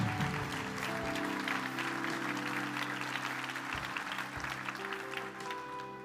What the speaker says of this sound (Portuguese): Mais uma salva de palmas a Deus e a eles por essa decisão.